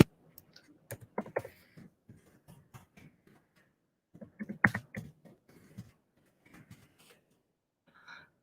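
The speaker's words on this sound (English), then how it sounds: "let me just type it here." Typing on a computer keyboard, bursts of close, crisp key clicks in irregular clusters with short pauses between, fairly quiet and alone without speech.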